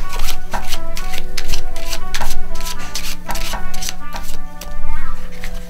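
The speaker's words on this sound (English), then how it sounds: "Just going to give the deck another shuffle," A deck of playing cards being shuffled during a close-up magic trick, giving a run of crisp riffling bursts over steady background music and hum.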